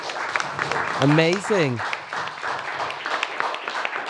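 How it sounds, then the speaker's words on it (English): An audience claps for a poet at a festival panel, a steady spatter of applause running under a host's voice that cheers over it. "One more round of applause for Inas"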